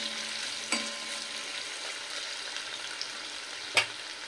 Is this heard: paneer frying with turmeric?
yes